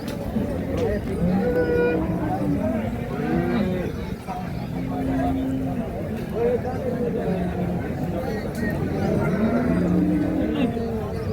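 Cows at a crowded cattle market in Kashti, Maharashtra, lowing repeatedly in long moos near and far, over a constant hubbub of people talking.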